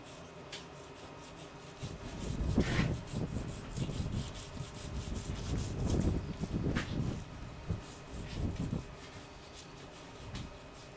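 A knife trims sinew off a beef brisket, making quiet scraping and rasping strokes in several uneven bursts close by, with low background noise between them.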